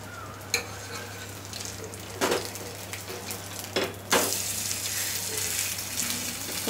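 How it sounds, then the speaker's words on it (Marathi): Maize thalipith frying in oil on a pan, a steady soft sizzle with a few scraping stirs and taps, the hiss growing brighter and louder toward the end, no voices. "हे बघा, असे खरपूस भाजून घ्यायचे"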